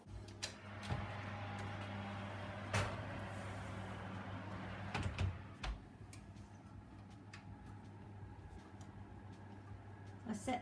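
An oven door opens and closes as a bread pudding goes in, giving a few soft clicks and thumps over a steady low kitchen hum, with no talking.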